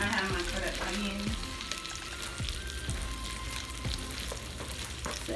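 Arnold's beef sausage fries in a pan, releasing its juices with a steady close sizzle and scattered pops and clinks of stirring throughout.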